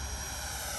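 A 3D printed 90mm RC jet plane passes at full throttle with a steady, loud ducted-fan whine and rushing roar in a brief burst.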